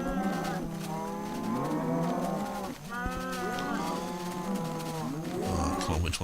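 Several cattle moo in a farming video game, long overlapping calls rising and falling one after another, loud and close throughout with no talk.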